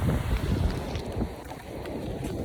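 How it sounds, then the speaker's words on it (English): Strong outdoor wind buffets the microphone in a steady low rumble that swells and eases throughout, loud and close, with no speech. "It's really windy over here."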